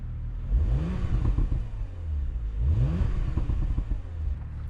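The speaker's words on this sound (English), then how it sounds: "So as you guys heard, we have the kind of the pops and crackles." A Porsche Macan S V6 with its exhaust valves open gives two sharp revs over a rumbling idle, each followed by a short patter of pops and crackles, close and fairly loud.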